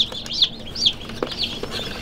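Baby chicks being raised at home peep and chirp in repeated high, close calls, several rising and falling cheeps in quick succession with faint clucking and light handling noises beneath.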